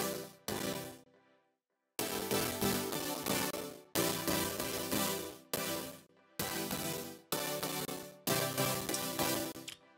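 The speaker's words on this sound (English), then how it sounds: "Let's play the synth, the chords." Pop synth chords pass through a simple three-band EQ with the lows reduced, playing a rhythmic pattern of sustained blocks broken by short gaps and one longer pause, moderately quiet and without voices.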